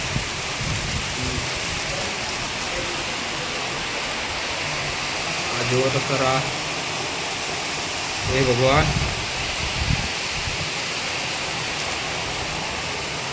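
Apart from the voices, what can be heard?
heavy torrential rain with strong wind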